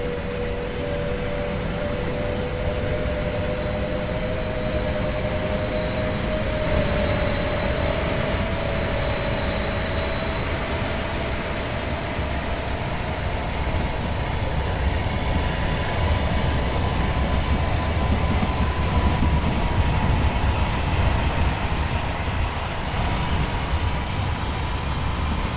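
SBB RABe 523 electric multiple unit in the Train Sim World 2 game pulling away from Luzern, a steady rising motor whine and electric tones over rumbling rail noise, continuous and loud with no voices.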